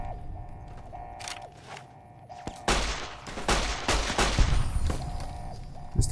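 Gunfire in the game Fallout New Vegas, a few sharp isolated shots early, then a dense loud volley of rapid shooting that continues to the end.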